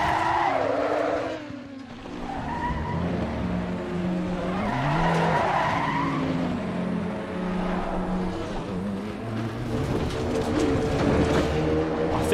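A race car skids across the tarmac after a crash in Assetto Corsa Competizione, with sustained tire scrubbing and sliding noise and shifting engine tones running loud and continuous throughout.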